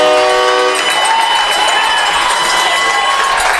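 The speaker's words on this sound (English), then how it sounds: "Yeah, they have a train whistle down here." A train whistle at a high school football game sounds right after a touchdown, a steady multi-tone horn blast at the start cutting over a loud, cheering stadium crowd that keeps roaring throughout.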